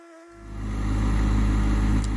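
Tractor-mounted post hole auger on a John Deere 1025R compact tractor starts up after a brief quiet moment, settling into a steady, loud, droning engine-and-drive hum that holds for the remaining two seconds, with no talking.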